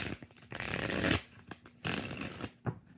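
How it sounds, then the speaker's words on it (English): Tarot cards being shuffled up close in several quick bursts, crisp riffling sounds separated by short pauses, with no talking. "4 shuffles"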